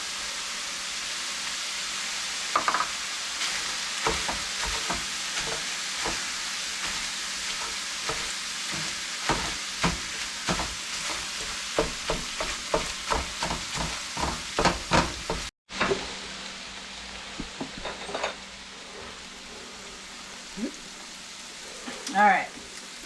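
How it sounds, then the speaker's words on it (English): Onions fry with ground meat in a hot pan, giving a steady close sizzle broken by frequent scraping stirs. Partway through, the stirring stops and a quieter, even crackle carries on. "we're going to add in the onions and cook that for 5 minutes"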